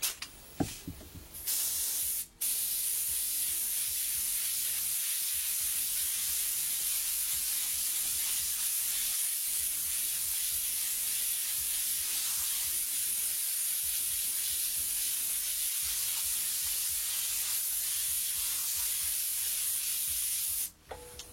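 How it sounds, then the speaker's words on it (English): A large airbrush-style spray gun with a tight cone laying out flame artwork, producing a long continuous hiss of spray, close and steady, with a few brief breaks near the start and end. "tight cone, which is basically a big overgrown airbrush spray"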